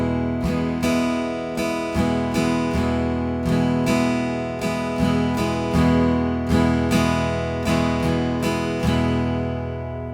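Acoustic guitar strums a steady pattern of downstrokes and upstrokes, switching between two chords at a moderate pace, clear and close, with no voice.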